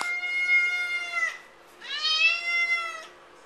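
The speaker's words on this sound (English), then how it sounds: "I think that's an I want to go outside meow." A domestic cat meows twice in a row, two drawn-out, clear, fairly close calls separated by a short pause, as if asking to be let outside; no voices accompany them.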